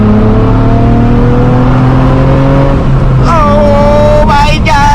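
A tuned 3.5-liter J-series V6 in an 8th-generation Honda Accord revs loudly on 91+ fuel, its steady drone climbing into sharp rising pulls near the end, heard close from inside the car with voices nearby.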